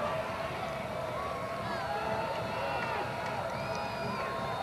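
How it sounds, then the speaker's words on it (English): A college football crowd at a Holy Cross Crusaders game against Colgate cheers steadily, a dense sustained roar of many voices filling the stadium with a continuous wash of noise. "And this crowd getting behind their Crusaders."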